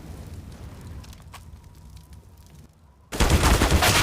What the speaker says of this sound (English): Oh, that wall bang is perfection.